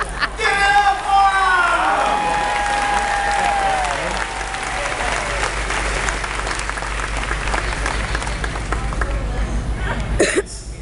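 Applause from a crowd at a Disney's Hollywood Studios show in December 2013, loud sustained clapping with a voice over it at first, running for about ten seconds before fading near the end.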